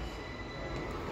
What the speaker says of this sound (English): coming in is a East Midlands Railway service from 158 for Norwich